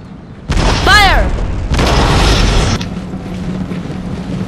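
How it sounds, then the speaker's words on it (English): Prussian artillery in the video game Empire: Total War fires in two loud booming salvos, each a heavy rumbling blast lasting about a second, followed by a lower lingering rumble; one brief whistling sweep rides over the first blast. "The Prussian artillery is loading to destroy the enemies."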